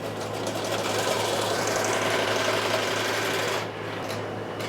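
A home embroidery machine stitches an appliqué design, giving a steady, close, rapid whirring buzz that drops to a lighter hum near the end.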